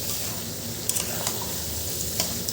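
Fried prawns stirred into a sizzling Bengali potato and pointed gourd curry with spices, a steady close frying hiss with a few soft scrapes of a spatula and no talk.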